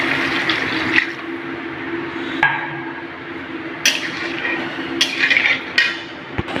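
Water pours steadily into a pan of masala for Odia rohu fish curry, a continuous splashing wash with a few clinks of utensils over it.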